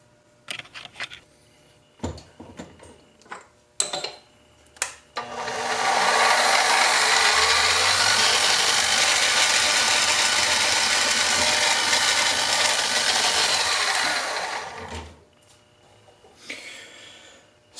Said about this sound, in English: we'll jump over to my mill drill press, get everything taken care of